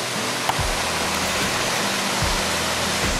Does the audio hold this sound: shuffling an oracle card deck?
no